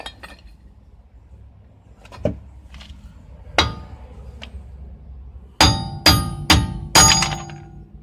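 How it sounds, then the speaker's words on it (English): Several sharp metallic hammer strikes knocking wheel studs out of a 2006 Saturn Ion hub ring out, a few scattered early, then four loud clanging blows in quick succession near the end. "Now I'm just going to use a hammer and knock the other stud through"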